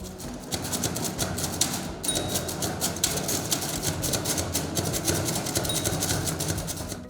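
A Perkins brailler types braille in a rapid, steady run of close, loud mechanical clacks and thumps, the key strikes repeating with brief pauses and no talking.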